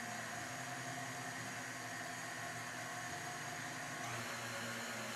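Stand mixer on its stir setting, mixing buttercream frosting: a steady motor whir and hum that runs evenly throughout at moderate volume, with no talking.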